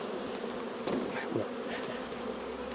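A honeybee swarm being moved into a hive, giving a soft, continuous buzzing hum with a few nearer bees passing, all fairly faint and with no talking.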